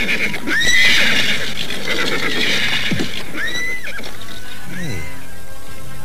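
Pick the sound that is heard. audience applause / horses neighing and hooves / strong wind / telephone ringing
horses neighing and hooves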